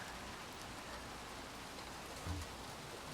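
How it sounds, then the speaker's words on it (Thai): Rain falls in the video game Little Nightmares 2, a steady, quiet, even hiss of downpour that runs throughout without voices. "หนาวด้วย ฝนตกอีกตั้งหากเอา"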